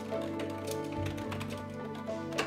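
Typing on a bent ergonomic keyboard, a steady run of light key clicks at close range over a soft background hum, with one slightly louder tap near the end.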